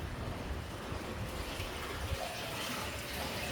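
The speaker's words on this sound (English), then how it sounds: "The sound of the water in this cave" Water runs and sloshes through a rocky channel inside a sea cave near the shore, a continuous, moderately loud gushing wash with no speech.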